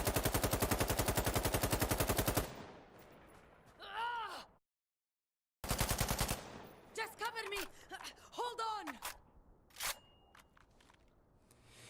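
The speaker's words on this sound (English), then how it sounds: "The Scar H's horrible kick, pretty bad fire rate and bad magazine make it really lacking in aim dueling." SCAR-H rifle firing in Insurgency: Sandstorm: a loud, rapid sustained burst of about two and a half seconds, then quieter grunting and gasping voice sounds with a few scattered thuds.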